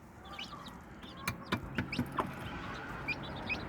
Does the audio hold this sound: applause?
no